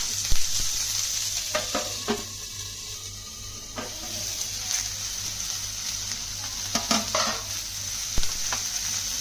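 Onion pieces and ginger frying in oil in a pan for onion chutney, with a steady, loud sizzle and occasional scraping stirs close by, with no talk.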